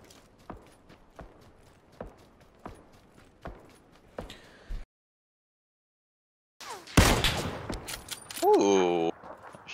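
Gunfire in the battle-royale game PUBG: a run of sharp, evenly spaced single shots, then a moment of silence, then a louder, denser burst of noise, with a voice speaking over it.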